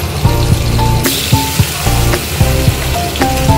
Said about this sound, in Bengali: জাস্ট মাছটা হালকা করে ভেজে মাছগুলো তুলে নিই।